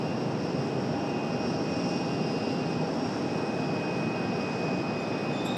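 A Frontier Airlines jet departing the runway sends out a steady, distant broadband roar with a faint high whine, holding constant with no voices.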